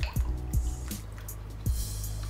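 Water poured onto the soil of a potted snake plant gives a few soft close splashes and drips with a gurgle, separated by quiet moments.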